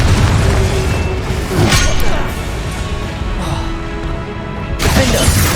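Confringo fire-blast spells in the Hogwarts Legacy video game: loud booming explosions and crashing impacts in a dense battle mix, with sharp bursts near the start, around two seconds and again near the end.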